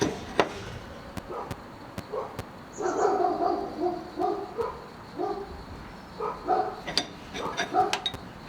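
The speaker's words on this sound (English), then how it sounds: "something gets the dogs going. They're not ours" Neighbours' dogs bark in a backyard, a few sharp separate barks at first and then clustered bursts of barking, moderately distant and fairly faint, with no talk.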